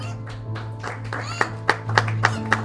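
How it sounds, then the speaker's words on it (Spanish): Scattered clapping from children during a church service, a few distinct sharp claps rising over a low sustained hum and murmuring voices, brief and fairly light rather than a full ovation. "Yo quiero que los niños le den un aplauso al Señor en esta noche."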